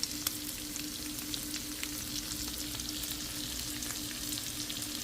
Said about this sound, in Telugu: కుక్ అయ్యేటప్పుడే సాల్మన్ పెట్టేస్తే బెటర్, బికాజ్ ఇది ఫాస్ట్గా కుక్ అయిపోద్ది.